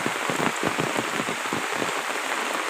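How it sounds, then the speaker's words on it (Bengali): Heavy rain pouring steadily onto surfaces, a dense continuous hiss of drops, close and loud with no break. "বৃষ্টি চারিদিকে এমন ভাগে বৃষ্টি নামছে।"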